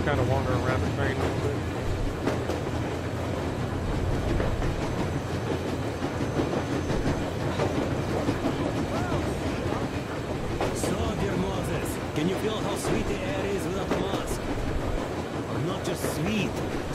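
A train rolls through the Metro Exodus video game with a steady, loud rumble and clatter from the rail cars, sharp rattles and clanks near the end, and voices talking over the noise.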